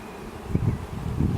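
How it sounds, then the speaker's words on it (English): Honeybees buzz steadily as a frame crowded with bees is shaken into a box during a hive inspection, a low continuous hum with a few dull knocks from the shaking. "You have to shake bees into it."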